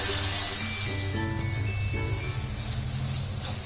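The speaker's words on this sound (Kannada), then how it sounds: "ಈಗ 4 ನಿಮಿಷದವರೆಗೂ ಎಣ್ಣೆನಲ್ಲೇ ಫ್ರೈ ಮಾಡಿದೆ." Vegetable fried rice mixture fries in oil in a pan with a steady, close sizzle that runs unbroken throughout, with no talk over it.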